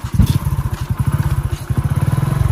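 Motorcycle ride on Lakshadweep roads, the engine close and loud with a rapid, steady pulsing exhaust throughout.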